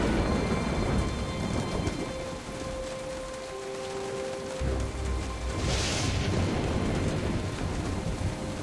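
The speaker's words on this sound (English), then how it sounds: "You gonna solve it in the middle of a storm?" Thunderstorm with steady heavy rain in the video game Jurassic Park The Game, a continuous loud wash of rainfall with rumbling thunder swelling through, a brief softer lull mid-way and a brighter crack near the end, no talking.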